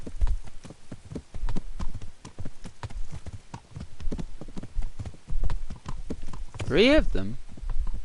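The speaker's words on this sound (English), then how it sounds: "No way, horses on the Jack Jones." Horses' hooves clip-clop steadily in a medieval video game set in Bohemia, the game Kingdom Come Deliverance, with a brief whinny near the end while someone speaks over the rhythmic footfalls.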